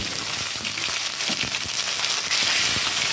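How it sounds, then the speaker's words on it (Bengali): Steady crackling sizzle of spices and ginger paste frying in hot oil, dense and continuous throughout, with occasional louder pops and stirring scrapes. "দেখুন একটু এইভাবে ভেজে নেবেন আপনারা"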